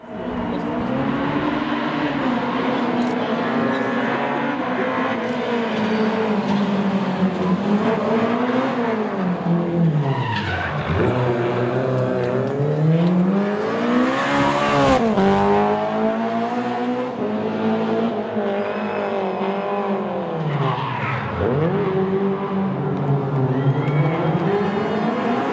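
A Lada 2107 S2000 rally car with a Honda engine races past at a Rally Hungary European Championship stage, its loud engine revving hard and rising and falling in pitch as it nears, passes and pulls away, with no one speaking.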